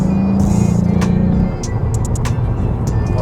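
A 2022 Cadillac CT4-V Blackwing in fourth gear rolls over a very bumpy road, its engine a steady low drone with a lower hum fading after a second and a half, and faint tyre and body knocks over it.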